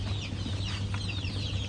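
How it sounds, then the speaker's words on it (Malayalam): Young chicks in a box peep and cluck continuously at close range, a busy overlapping chatter over a steady low hum. "കോഴി ബേബികളൊക്കെ നമ്മള് കൊണ്ടുപോകാൻ പോണ്."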